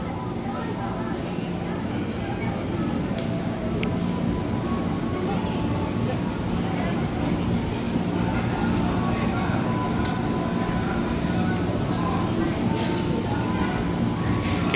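A KA Motis train pulls away from Tanah Abang station in a steady, continuous rumble of rolling wheels and carriage noise, heard from on board, fairly constant in level with no clear breaks.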